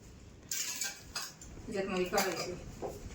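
Pots, pans and cutlery clatter and clink as a mother cooks in a home kitchen, a few sharp metallic knocks and scrapes at moderate distance with faint background voices.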